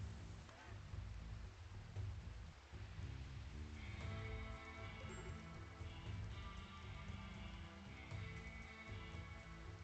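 Steady rain falls in the video game RimWorld, a dense, even hiss of drops running unbroken throughout, with game music and tonal effects layered over the steady patter.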